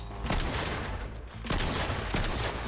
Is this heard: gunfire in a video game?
yes